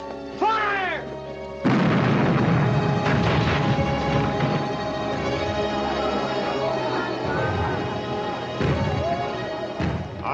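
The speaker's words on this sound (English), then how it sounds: "Ready on number one cannon" Ship cannons fire during a naval battle scene in a 1955 pirate film set off Tripoli, heavy booms and crashes layered with shouting voices and orchestral music, loud and dense throughout.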